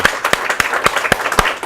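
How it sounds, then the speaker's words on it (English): An audience at a Safe Kids Day community event claps for first responders: a short burst of sharp, fairly regular hand claps, close and distinct rather than a dense roar, with no voices heard. "So let's give them a big round of applause for all our first responders."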